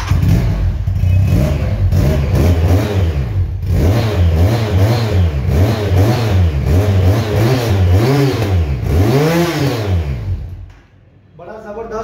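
A Kawasaki Ninja Z1000 replica 400cc motorcycle engine revs repeatedly up and down, loud and close, with throaty rising and falling sweeps before briefly dropping off.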